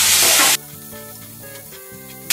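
Onion, tomato and green chillies with salt frying in a pan: a loud, bright sizzle at the start and again at the end, with a quieter stretch between where steady tonal music-like hum sits under the frying, no talk.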